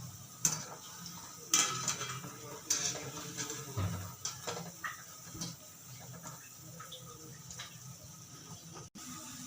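Mangalore bondas frying in hot oil are turned over with a metal utensil, giving a few sharp clinks and scrapes against the pan over a low, steady sizzle with faint ticking.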